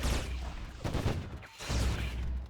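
Seekers exploding in the sci-fi online game Anarchy Online give a rapid cluster of muffled booms and crackling bursts in two dense waves with a brief dip between them, loud and close, with no talk.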